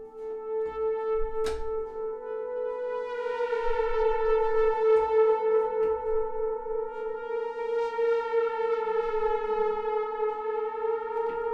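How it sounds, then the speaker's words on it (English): A synth horn holds a steady wailing tone like a siren, swelling and sustaining for several seconds, with a few sharp clicks near the start. "Which also sounds like an ambulance or like a siren."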